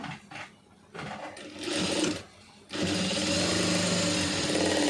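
A sewing machine stitches grape silk cloth, with short bursts at first and then a loud, steady, close whirring run after a brief pause.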